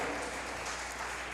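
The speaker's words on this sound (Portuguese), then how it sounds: "Aplauda ao Senhor." A church congregation applauding the Lord during a service, a steady, continuous wash of clapping at moderate distance with no voices standing out.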